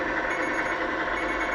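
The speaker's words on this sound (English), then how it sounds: "Blinker." Electronic blinker tone from a GT Power light and sound kit on an RC truck, a steady repeating clicking-beep pattern played loud and close over a constant synthetic hum, with no talking.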